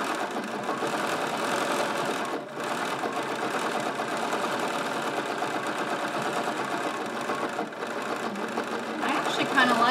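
Domestic sewing machine running steadily while machine quilting, a continuous close mechanical whir with fine needle rhythm that briefly dips and then picks up speed, with someone talking over it.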